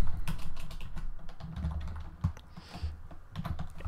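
Close, rapid clatter of computer keyboard keys as Ruby code is typed, an irregular stream of crisp clicks with no voice over it.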